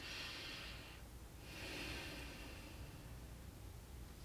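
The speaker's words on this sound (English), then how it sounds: "Breathing in your nose and breathing it out." Deep belly breaths drawn in through the nose during a guided breathing exercise, two long airy inhales close to the microphone, with steady soft breath noise in between and no talking.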